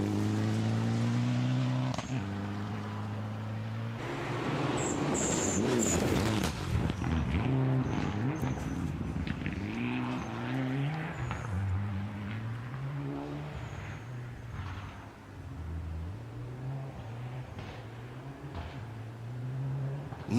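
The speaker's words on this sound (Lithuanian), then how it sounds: "taip gražu klausyti tų antilag sistemų riaumojimų" Rally car with an anti-lag system roaring along a gravel stage at Rally Kėdainiai, engine revving and rising in pitch as it passes, with sharp anti-lag pops and bangs, loud and fairly close, no talk.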